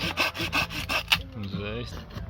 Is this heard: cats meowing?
no